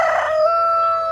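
An aseel rooster, a pure-breed bird about 14 months old weighing under 3 kg, crows once close by, a strong drawn-out call that rises at the start and holds steady to the end.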